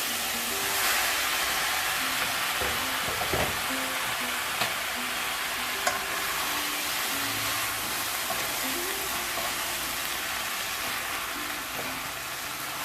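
Vegetable noodles frying and being stirred in a pan with vegetables, a steady hiss of sizzling throughout with faint scrapes and clinks of the utensil, close and moderately loud.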